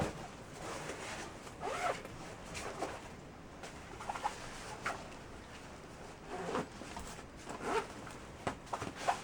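Repeated zipping sounds close by, several quick pulls along the front zipper of a service dog's bag, with faint cooing birds in the background.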